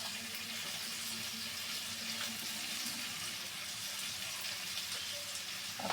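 Cooking oil sizzles in a pan at the start of a home lunch of pointed gourd, a steady broadband hiss holding evenly throughout with no talk over it.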